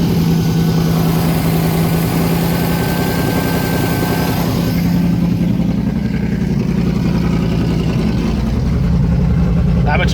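Engine of a 1971 vehicle idling on fast idle, a steady loud rumbling drone that runs continuously throughout, close by and alone.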